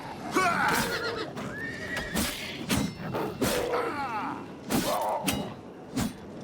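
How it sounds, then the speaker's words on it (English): A horse neighs and whinnies several times with clip-clop hooves and sharp impact clatter, game sound effects from The Elder Scrolls IV: Oblivion Remastered, voices murmuring underneath. "End up hitting my own horse more than anything else."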